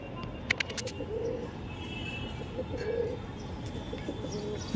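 Pigeons coo in soft, repeated low phrases close by, with a few brief sharp chirps near the start over a steady background hum.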